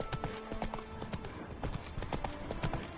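Hooves of a horse in The Witcher 3: Blood and Wine clatter in a quick, steady galloping rhythm, close and continuous, with faint game ambience beneath.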